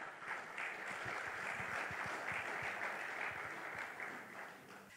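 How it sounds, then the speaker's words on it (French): Sustained applause from a ceremony audience at an awards event in Congo, broad steady clapping filling the hall without pause, fairly distant and even in level throughout. "Sous vos applaudissements"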